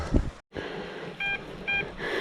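Metal detector (XP Deus) giving two short electronic signal beeps while searching by a stream, brief bright tones separated by a pause, following a faint bit of background noise.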